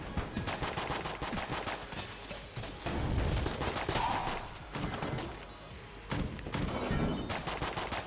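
Weapon fire from the portal gun in the dungeon-crawler game Enter the Gungeon, with dense rapid bursts of shots, some blasting in heavy clusters, continuing loudly throughout with brief pauses between volleys.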